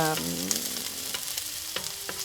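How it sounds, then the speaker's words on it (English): Shallots or onions frying in a pan, a bright crackling sizzle running continuously with sharp pops and spatula scrapes, close and fairly loud. "Just fry it up until"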